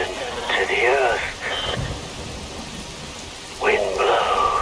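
Rain and thunder in the video game Metal Gear Rising: Revengeance, a steady hiss of rainfall with low rumbles, while a voice speaks over it in two bursts.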